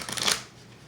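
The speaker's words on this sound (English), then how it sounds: "let's actually give the deck a couple of shuffle" A quick riffle of a Tally-Ho deck of playing cards being shuffled, a short crisp fluttering burst that fades out, close and fairly quiet.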